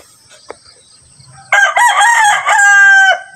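A rooster crows once, loud and close, a long strained call after a few quiet moments.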